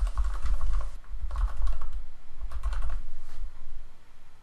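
A computer keyboard is typed on in rapid bursts at close range, brief pauses between runs of keystrokes, over a low background hum.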